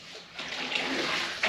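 A mop dunks into a bucket of water during floor mopping, giving a short wet swish and slosh followed by dripping splashes, close and moderately loud with no voices.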